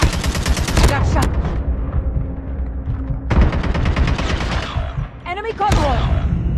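Loud automatic gunfire from COD Mobile, rapid machine-gun bursts in two long stretches separated by a brief lull, with heavy impacts and game voices mixed in.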